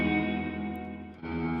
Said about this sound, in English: it's catching the reverb of it, the echoes